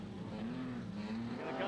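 Modified production race cars at Lismore Speedway roar past in a steady, loud engine drone with a slowly wavering pitch, a commentator talking over the noise.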